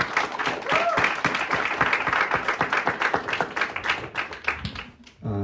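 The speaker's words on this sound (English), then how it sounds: "let's clap again" An audience at a cinema Q&A at Facets claps again, a steady patter of many hands close by that continues for several seconds with faint voices mixed in.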